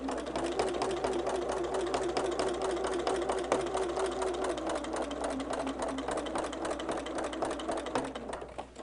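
Sewing machine with a walking foot stitching quilt fabric runs in a fast, steady mechanical chatter, close and continuous, dropping off right at the end.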